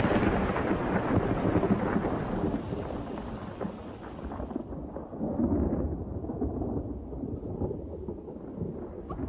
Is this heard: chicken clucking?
no